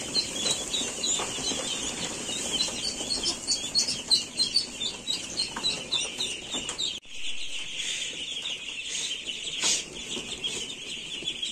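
Duckling chirps as the birds are let out of a brooder into a room, a dense, steady chorus of high peeping with some wing flutters and a soft scuffling underneath.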